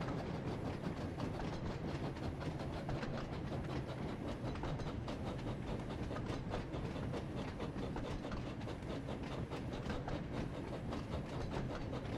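Train rolling along rails in a Thomas & Friends video game, a steady dense rumble with continuous clickety-clack and rail noise throughout, loud and unbroken.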